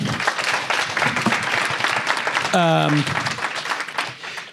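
A dense round of applause from an audience after a startup founder's pitch, steady and fairly loud, with a brief tonal whoop rising out of it midway and voices mixed in.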